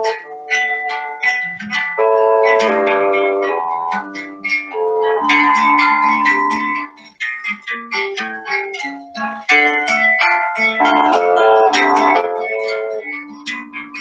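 A recorded Brazilian samba song plays on continuously: bright melodic and harmonic notes over crisp percussive hits in a lively rhythm, with no talking over it.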